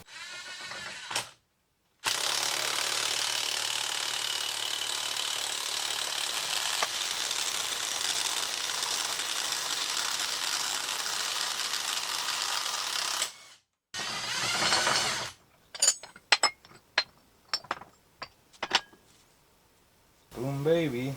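A low-torque impact wrench working on a Dana 44 axle from a Wagoneer, a long, steady buzzing rattle of about eleven seconds, then shorter bursts and sharp clacks of tools nearby.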